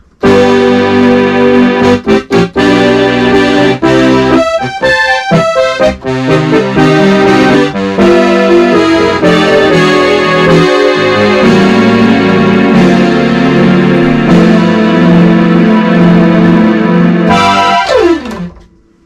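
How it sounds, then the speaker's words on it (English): A Williams Legato digital piano's synth pad plays layered electronic tones, with quick stabs early on settling into long sustained chords, ending in a downward swoop. "So a synth pad sounds like this."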